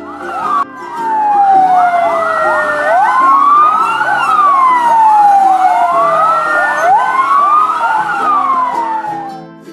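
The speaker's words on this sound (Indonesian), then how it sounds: "F is for fire truck" A loud fire truck siren wails continuously, its pitch sweeping up and down in repeated cycles, close and unbroken for several seconds.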